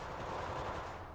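Gunfire in the mobile battle royale game Apex Legends Mobile, a dense continuous burst of rapid shots lasting just over a second, loud and close with no voices over it.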